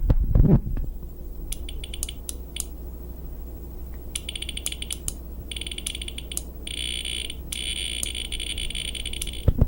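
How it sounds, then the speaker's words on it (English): Motion sensor circuit emitting bursts of sharp electronic clicks like a Geiger counter, the click rate speeding up and slowing down in irregular clusters over a steady low hum, with no talking. "that click sounds like a Geiger counter, goes faster or slower depending on how fast or how slow you approach the sensor"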